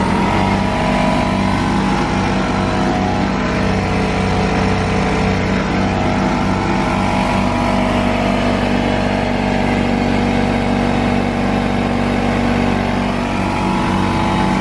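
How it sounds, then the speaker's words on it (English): An air compressor on a mobile detailing rig running loudly and steadily up close, a dense continuous mechanical drone with a low rhythmic pulse throughout. "when I turn it on, it's going to stress the compressor very little and it's going to run it"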